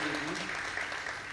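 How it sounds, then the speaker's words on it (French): An audience at the Vodun Days 2026 announcement event claps in a steady dense patter, with a voice briefly talking over the start. "Je voudrais que vous applaudissiez quand même"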